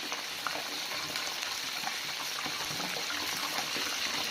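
Small fish frying until golden in reused oil, a soft, continuous bubbling sizzle with a faint crackle and no talking.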